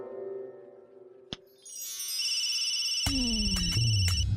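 An electronic telephone ringtone starts after a quiet moment with a brief click, then a bright repeating melodic tone rings on with stacked accents, clear and fairly close.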